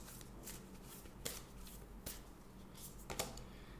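A deck of Moonology Oracle cards is shuffled by hand before a single card is drawn, giving soft, close riffling and flicking bursts with a few sharper snaps and no voice.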